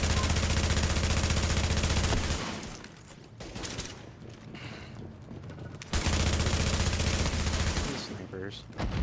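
Gunfire in the video game The Division comes in rapid loud bursts, pausing for a few seconds before resuming; a player's voice is faintly present in the gap.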